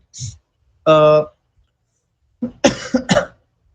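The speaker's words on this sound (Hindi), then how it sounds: "खांसी बहुत आ रही है।" Several coughs: one short cough, a pause, then a longer harsh cough burst and a cluster of quick coughs, close to the microphone with no talking.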